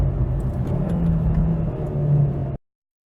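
A 2015 Subaru WRX engine during a heel-toe downshift from fourth to third, a steady close mid-pitched rumble with a brief throttle blip, cutting off abruptly near the end.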